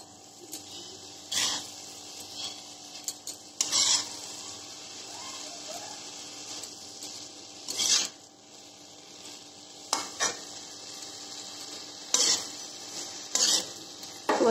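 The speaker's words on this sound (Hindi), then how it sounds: "वो अच्छी तरह से घी में भून लेंगे" Grated carrots frying in ghee for carrot laddu, a soft low sizzle broken by scattered scrapes and clinks of a spoon stirring in the pan, fairly quiet.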